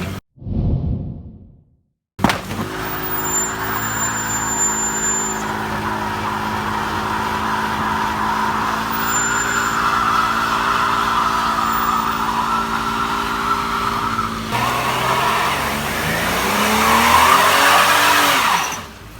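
Car doing a burnout at a gender reveal: after a brief whoosh, the engine roars loud and sustained with rising revs and tire squeal, building near the end.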